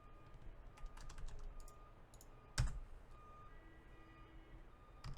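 Keys clatter on a computer keyboard in uneven bursts of quiet clicks, with one sharper thump of a key press midway, under a low background hum.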